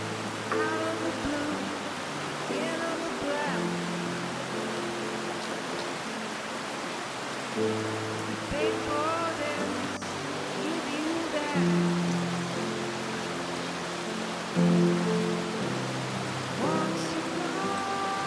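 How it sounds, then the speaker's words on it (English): Water of Eagle Creek rushing steadily at a hiking-trail crossing, a continuous broadband wash that runs throughout, with voices talking over it now and then. "right here's our first creek crossing of Eagle Creek"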